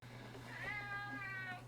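A cat meows nearby, one drawn-out call that rises and falls, clear and fairly loud over a steady low hum.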